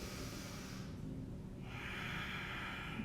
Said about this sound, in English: Take a big inhale.